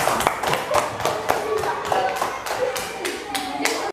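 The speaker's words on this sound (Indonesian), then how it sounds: "Tepuk tangan untuk kita semua." Clapping from a class or workshop audience during an academic coaching and supervision session, a brisk run of sharp claps repeating steadily for several seconds at close range, with faint voices mixed in.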